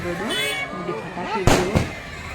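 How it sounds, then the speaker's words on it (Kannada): Firecrackers burst during a village festival procession with the village goddess's chariot, heard as played-back footage: two sharp bangs close together over a steady hum and voices. "ಎಲ್ಲರೂ ಪಟಾಕಿ ನೋಡಿರ್ತೀರ ಎಸ್ಪೆಷಲಿ ಈ ಹಬ್ಬದಲ್ಲಿ"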